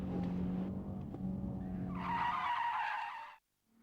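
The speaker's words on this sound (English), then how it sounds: "When we're approaching the corner, we want to downshift, and that briefly locks up the tyres, and then breaks you into the drift" A car drifts through a corner after a downshift briefly locks the tyres: an engine drone gives way to a loud, rising tyre squeal and skid, which cuts off abruptly before a brief faint tail.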